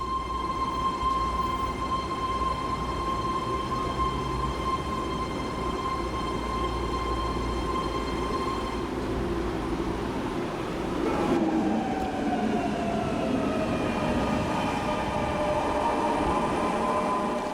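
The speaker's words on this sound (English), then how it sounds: "This BART Legacy train is running as a Yellow Line train, stopping at Millbrae and continuing to San Francisco Airport" A BART Legacy train runs in San Francisco with a loud, continuous rumble and whine, a brief rising squeal of wheels, then a lower rolling drone as it moves on.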